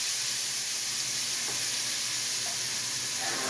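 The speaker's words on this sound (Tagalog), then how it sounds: "igisa na natin ang ating bawang, sibuyas at saka kamatis" Steady sizzling and frying of garlic, onion and tomato being sautéed in a hot pan, a continuous hiss with occasional faint stirring sounds.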